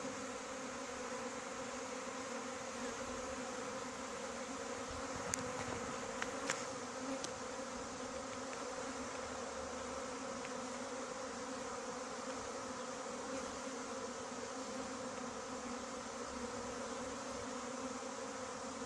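A honeybee swarm being collected at Coubert gives off a steady, dense buzz that holds evenly throughout at moderate level, with a few faint knocks partway through and no talking.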